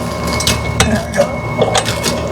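Ratchet wrench on an extension working loose a spark plug on a Generac generator, a run of quick close metallic clicks in short bursts with light background noise.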